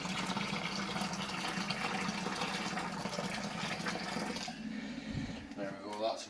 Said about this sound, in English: I'll just add the rest of the water.